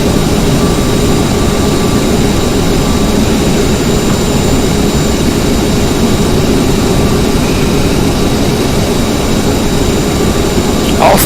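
CRJ jet engines in Aerosoft's CRJ Professional flight simulator, climbing out of KATL toward KEWR under added throttle, make a loud, steady roar with a whining hum that holds constant throughout.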